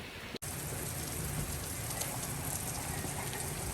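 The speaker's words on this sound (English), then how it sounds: "Getting a little rain." Steady rain falls outside by a barn, a close, dense patter on surfaces that holds evenly after a brief dropout at the start, with no voices.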